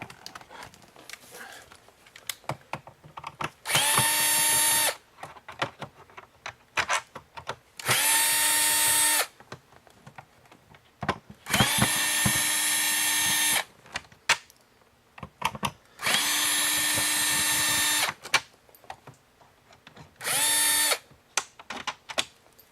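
A power drill backs out the four screws on the underside of a Hoover WindTunnel self-propelled vacuum, sounding as five separate whirring bursts of a few seconds each, close and loud, with light clicks and handling noise between them.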